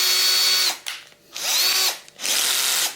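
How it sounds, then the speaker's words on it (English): Cordless drill with a 5mm brad point bit boring out 6mm wooden inlay dots, three close, loud whirring bursts with short pauses between, the pitch dipping as the bit bites into the wood. "And I'm going to try and drill these guys out."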